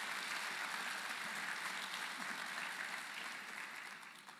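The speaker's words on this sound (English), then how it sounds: "we should give those learners a good round of applause for their great achievement" Steady audience applause for learners at an education sector gathering, a dense wash of many hands clapping that holds evenly and slowly fades toward the end.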